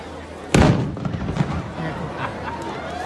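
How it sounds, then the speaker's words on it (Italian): A single sharp cannon salute boom for a ship's arrival at Taranto's swing bridge bursts out and rolls into a reverberant rumble that fades slowly, with faint background murmur throughout. "Questo è il colpo di cannone che saluta l'arrivo di una nave"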